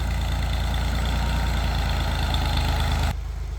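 A tractor engine idles steadily up close, a loud continuous low rumble that drops in level near the end.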